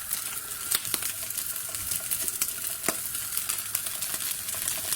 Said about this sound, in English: You can kind of hear the fat coming out of it and frying the bottom of it